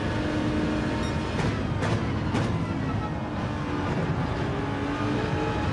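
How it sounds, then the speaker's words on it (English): Race car engine sound from Gran Turismo 7 holds a steady, dense drone throughout, with brief rising surges around the second and third seconds as the car accelerates, loud and continuous without talk. "Squeeze the accelerator, don't jump on it, Mitchell."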